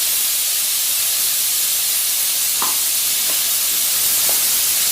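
Radish leaves and soaked moong dal sauté in a pan over a medium flame, giving a loud, steady steamy hiss with a few faint spoon taps against the pan.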